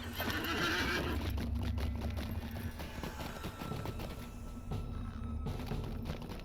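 A horse whinnies loudly in Lord of the Rings Online over a steady low rumble and background game ambience, with no one speaking.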